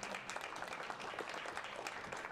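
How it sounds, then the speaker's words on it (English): A conference audience applauds the panelists after a tech discussion, with steady, dense clapping from a modest crowd that stays even and fairly faint throughout. "Can we give a round of applause to our panelists,"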